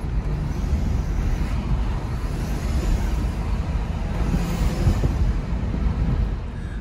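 Audi S4 B5 with a P1557 fault cruising gently, a steady rumbling road and engine noise with slight surges, continuous and close, no talk over it.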